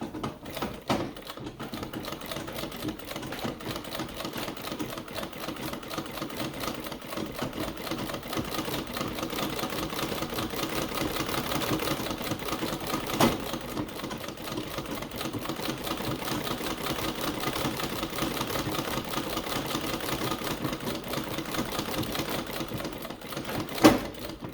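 Domestic treadle sewing machine winding a bobbin through a loosely fitting belt, a steady fast mechanical clatter of rapid ticks and rattles with a couple of louder knocks, running continuously and fairly close.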